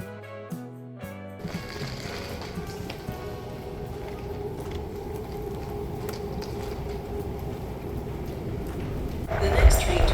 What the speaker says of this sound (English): The next train to arrive on the outbound platform is from YVR Airport.